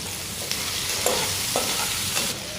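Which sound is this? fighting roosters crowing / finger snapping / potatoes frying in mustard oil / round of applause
potatoes frying in mustard oil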